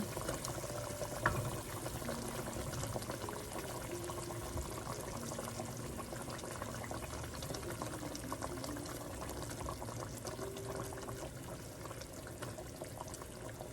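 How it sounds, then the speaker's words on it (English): Fish slipped into a simmering Malay fish curry, giving a continuous bubbling, liquid burble at moderate level throughout, with no talking. "At this point, we're going to slip in the fish."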